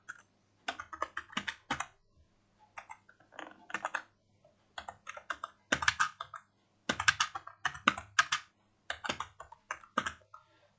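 Fingers typing JavaScript code on a computer keyboard, crisp close key clicks in quick bursts separated by short pauses, with no talk.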